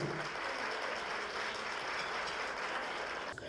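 Audience applause at a technology industry panel event in Mexico: dense, steady clapping from a crowd, fairly close and even in loudness, sustained for the whole stretch before dipping briefly at the end.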